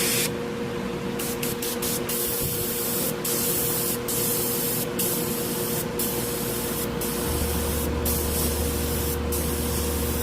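A Paasche Talon TG3F airbrush with a 0.38 tip sprays paint in a steady close hiss, broken by several short pauses as the trigger is released and pressed again, with a low compressor hum underneath.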